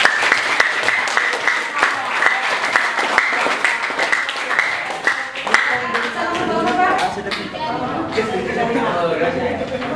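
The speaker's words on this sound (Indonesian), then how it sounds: "Kita beri aplaus untuk kelompok yang" A classroom of high school students claps for a student group that has just presented, loud, dense and continuous applause throughout, with some chatter mixed in.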